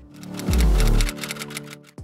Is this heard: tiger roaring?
no